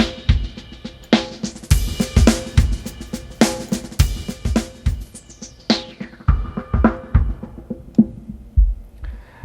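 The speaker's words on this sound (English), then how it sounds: "I have a small drum loop here. It's just a traditional drum loop." A traditional drum loop of punchy kicks and snappy hits repeats steadily through a resonant filter plugin, the cutoff sweeping down so the top end darkens and thins over the loop.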